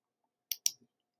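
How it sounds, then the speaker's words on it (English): Two quick, close clicks from a computer mouse sound in near silence, followed by a faint softer tick. "So I'm going to click on this."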